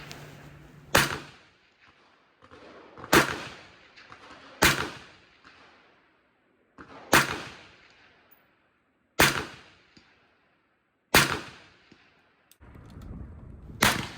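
A Sig SG550 rifle firing single shots outdoors: seven sharp, loud reports spaced about two seconds apart, each followed by a decaying echo, no talking.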